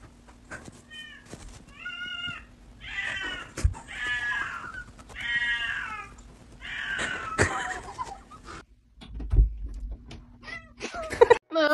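A cat meows repeatedly while shut out of a room, its drawn-out, wavering cries coming close and fairly loud in a series of separate calls, with a few sharp knocks and thumps in between.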